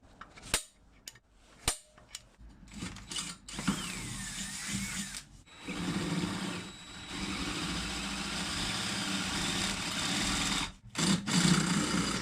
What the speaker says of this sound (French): Donc je vais percer à 13